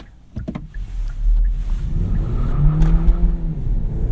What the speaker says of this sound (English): the Kia Niro will spin the tires going around the corner